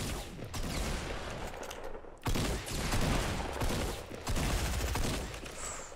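Rapid bursts of gunfire in the Fortnite video game, dense crackling shots fired in quick runs with a brief pause midway, loud and continuous with no talking over them.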